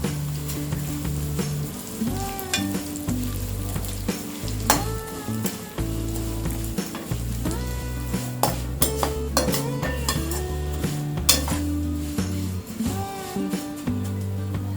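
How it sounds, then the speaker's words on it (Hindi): Vermicelli fries in a pan for semiya payasam, with a steady sizzle and crackle as it is stirred, and spoon and pan clinks throughout, loud and close, with no speech. "इसी पैन में हम सेवैया या वर्मिसेली फ्राई करेंगे।"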